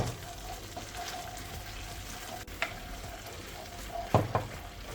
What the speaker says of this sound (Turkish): Biraz kavurduktan sonra azar azar yarım su bardağı su ekleyerek açıyoruz.